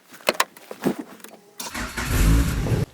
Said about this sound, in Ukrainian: Один раз я вже двигун запустив, пробуємо ще раз.